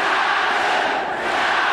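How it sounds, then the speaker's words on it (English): A packed arena crowd roars and cheers at a Pride 11 MMA bout between Gary Goodridge and Yoshiaki Yatsu, a dense, loud, continuous wall of voices with no break. "The crowd going nuts."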